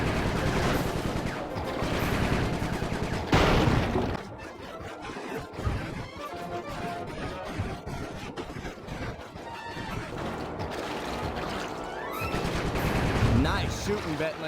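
Gunfire from Bentley shooting in Sly 3, with bursts of rapid shots and crashes over a busy, loud action soundtrack. The shots come and go throughout, with a heavy impact near the middle.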